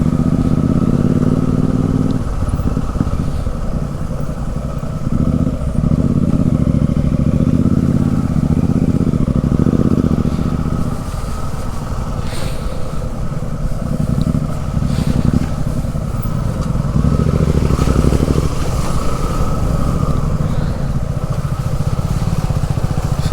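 A motorcycle ploughs through deep slush on a rainy road, its engine revving loudly and continuously up close with rising and falling throttle and clattering over some twenty seconds.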